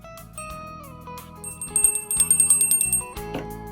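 A bright bell sound effect rings out in quick repeated chimes after a sustained electronic tone, bursting louder in the middle then trailing off, heard alone without talk.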